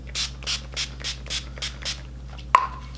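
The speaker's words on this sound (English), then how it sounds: "We'll give a nice little spritz of the All Nighter setting spray." Eight quick, evenly spaced spritzes from an Urban Decay All Nighter setting spray pump bottle, close and soft, followed by a sharp clack as the bottle is set down.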